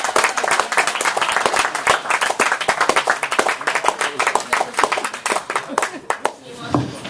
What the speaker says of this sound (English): So please give Nick Johnson a big round of applause.